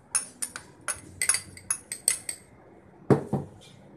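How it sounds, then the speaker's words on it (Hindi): Roasted chillies, garlic and salt are pounded in a mortar and pestle, giving a quick series of sharp, close knocks and clinks in an uneven rhythm, a couple of heavier thuds near the end. "इन तमाम चीज़ों को हम खावन दस्ते में कूट लेंगे"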